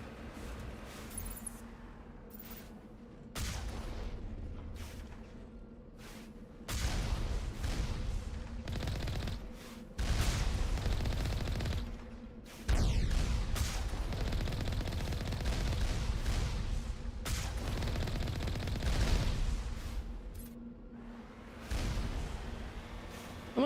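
Automatic turret gunfire in Mass Effect 1, coming in repeated bursts of rapid shots over roughly twenty seconds, loud and sustained with short pauses between volleys.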